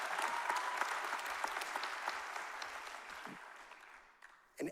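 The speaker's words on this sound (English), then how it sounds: "our awesome camp director, Carly Weinstock, I think that's worth that applause." A crowd applauds steadily for several seconds, the clapping fading gradually toward the end.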